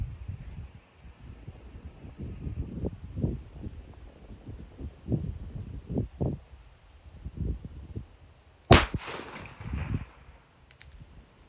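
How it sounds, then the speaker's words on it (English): A single loud gunshot from a 140-year-old revolver fired single action, a sharp crack near the end following quieter low thumps and handling noise. "I'm going to go ahead and shoot single action."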